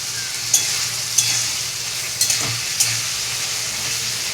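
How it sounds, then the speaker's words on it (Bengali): Ginger garlic paste fries in a pan with a constant dense sizzle, punctuated by a few distinct scraping taps of a spatula. "আদা রসুনের পেস্টটা একটু ভাজবো নাহলে রসুনের গন্ধ ছাড়বে"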